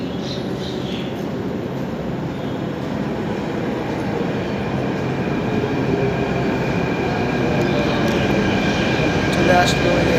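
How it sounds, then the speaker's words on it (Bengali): A metro train approaches a quiet station platform, its steady low rumble slowly building over about ten seconds, with faint voices in the background. "তো এখান থেকে একটা মেট্রো আসছে"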